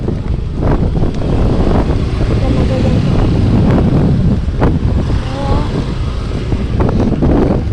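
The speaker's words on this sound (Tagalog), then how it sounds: "Ang lakas ng hangin." Strong wind buffets the microphone in a constant rumbling roar, with a voice talking briefly underneath.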